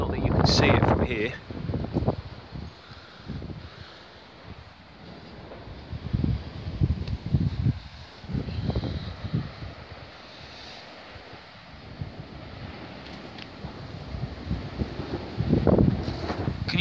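Strong night wind gusts through Essex, UK, in November, a steady roaring rush that swells and eases in waves, with heavier blasts near the start and the end.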